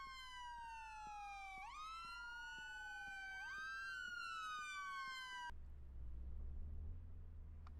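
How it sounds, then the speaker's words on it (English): Police car sirens wail in a Dallas police video game, several overlapping siren tones sweeping up and down loudly for about five seconds before cutting off abruptly into a low rumble. "Oh, there's the sirens again."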